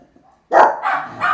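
A dog barks once loudly and close, followed by two shorter, softer barks.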